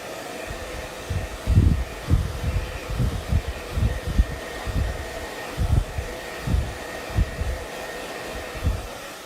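A hair dryer blows on a pumpkin craft, running as a steady close airy roar with an uneven pulsing rumble as it is moved around.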